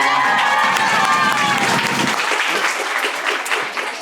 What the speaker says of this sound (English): Give a round of applause for Veronica.